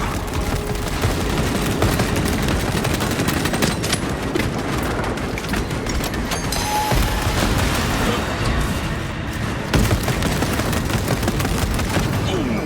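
Dense, continuous gunfire and booming blasts fill a Warhammer 40,000: Space Marine 2 battle against a Neurothrope, loud and sustained throughout with bursts of rapid shots and heavy impacts.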